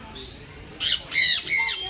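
Harsh, shrill sun conure squawks at a zoo, a short call then a burst of three loud screeches in quick succession, close to the listener.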